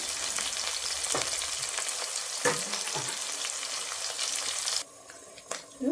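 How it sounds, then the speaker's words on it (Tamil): Mustard seeds, onion and garlic fry in hot oil, a loud, close, continuous sizzle with occasional stirring scrapes and crackles that drops away near the end. "கடுகு பொறிஞ்சிட்டு இருக்குது இந்த டைமில் வெங்காயம் கொஞ்சம் சேர்த்துக்கலாம்"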